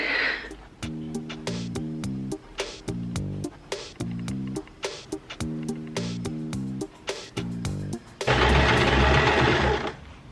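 A sewing machine stitching fabric scraps into cushion covers runs in rapid bursts of steady stitching separated by short pauses, then ends with a louder, denser whirring run, close and without talk.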